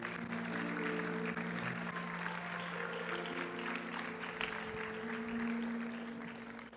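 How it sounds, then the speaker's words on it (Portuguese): A church congregation applauds during a Portuguese-language service, a dense, continuous wash of clapping with a steady low hum beneath it that fades slightly at the end. "Será que você pode aplaudir ao Senhor por essa palavra?"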